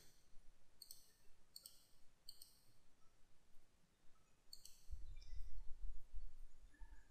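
Buttons pressed on a graphing calculator, a series of quick, sharp, faint clicks in small clusters against a quiet background.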